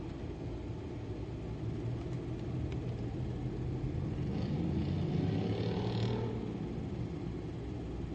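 A loud truck drives by on a city street outside an apartment building, a heavy low rumble that builds and peaks midway before easing off, with no voices.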